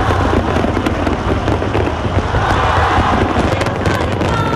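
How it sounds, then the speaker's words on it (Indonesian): Fireworks crackle and pop densely in the open air over the Taedong River in North Korea, a continuous loud barrage of bursts with a faint crowd murmur beneath. "Perayaan ini ditutup dengan pesta kembang api di tepi Sungai Taedong"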